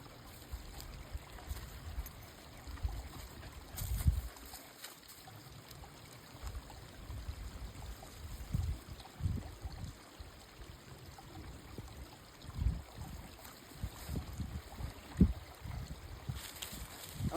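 Water rushes and trickles through a collapsing dirt dam on a stream, a steady low wash with occasional surges and splashes, fairly quiet and close, with no talk.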